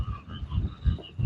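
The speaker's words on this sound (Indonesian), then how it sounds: "Suara kodok itu begitu indah" Frogs croak in a quick repeating rhythm of low, throaty pulses, fairly close, with faint higher calls in the background, outside a wood factory in Pasuruan.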